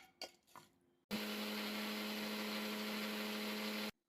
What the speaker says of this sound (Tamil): இதை நம்ம இந்த மிக்சியில் சேர்த்துட்டு நம்ம இதை பேஸ்ட் மாதிரி அரைச்சி எடுத்துகிட்டு வந்துடுவோம்.